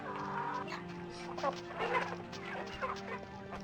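Chickens clucking in a medieval marketplace within the video game Summoner, several short clucks and squawks in irregular bursts over a steady ambient game background.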